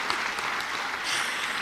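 A church congregation applauds a couple, the parents of a preacher, steady dense clapping filling the hall at moderate level for the whole moment.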